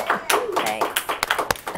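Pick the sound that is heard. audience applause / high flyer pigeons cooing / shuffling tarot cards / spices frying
audience applause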